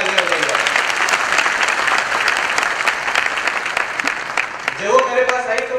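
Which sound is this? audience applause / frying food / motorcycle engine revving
audience applause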